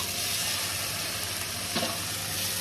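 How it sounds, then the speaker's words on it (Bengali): Chicken and onions fry in hot oil in a wok, giving a loud, dense, continuous sizzle with a brief stirring scrape partway through. "তেলটা গরম হয়েছে, পেঁয়াজ দিয়েছি, পেঁয়াজটা ভাজা ভাজা হয়ে গেছে, তারপরে মাংস দিয়ে দিয়েছি"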